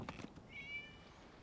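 A cat in the Genshin Impact game gives one short, high meow, faint and brief against quiet background ambience.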